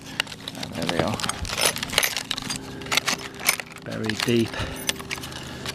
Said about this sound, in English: Get the keys out of here and just show you it's all good.